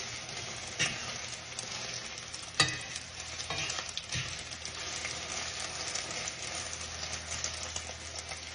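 An egg frying in a generous amount of oil in a pan, giving a steady, close sizzle with a few sharp pops and crackles spread throughout.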